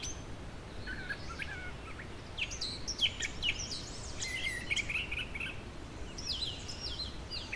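A brown thrasher, a mimic similar to a mockingbird, sings outdoors at Long Point in varied short phrases, fairly distant and soft over steady background noise and insect hiss, with no voices.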